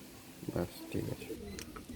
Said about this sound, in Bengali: এবার এক সেট গিরিবাজ পায়রা দেখাচ্ছি